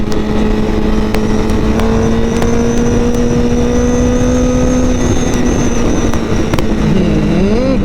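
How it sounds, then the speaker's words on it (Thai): Honda CBR1000RR sport bike with a loud, close engine drone and exhaust backfiring in repeated sharp pops scattered irregularly over the steady tone, the revs dipping and wavering near the end. "ดอย่างบ่อยเลยแบ็คไฟอย่างเยอะเลย ได้ยินไหมได้ยินไหม โอ้โหแบ็คไฟแบ็คไฟ"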